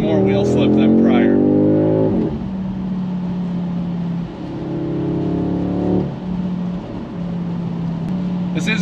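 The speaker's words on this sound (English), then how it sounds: "I'm gonna go for an ABS brake from 60" A 2022 Audi S3 with Quattro all-wheel drive brakes hard from 60 on snow in the Colorado mountains, its engine tone dropping sharply as it slows, with someone talking over the steady cabin drone.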